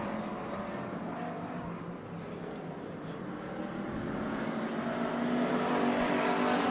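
Race cars in a heat race at Bakersfield Speedway run nose to tail down the back straightaway, a continuous, dense engine roar that slowly swells louder toward the end.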